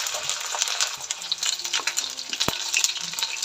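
Ground green chili fries in oil with a bright, crackling sizzle close by, with spatula scrapes, small taps, and one sharp clank of metal partway through.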